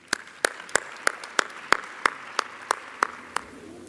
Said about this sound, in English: I would like to have a round of applause for the inauguration speakers.